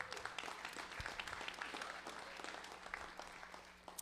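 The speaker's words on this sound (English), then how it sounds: "So can we get a round of applause to all the sponsors that help us out?" An audience at a live real estate investors' meeting applauds the sponsors, steady mid-distance clapping from many hands that carries on throughout and eases slightly toward the end.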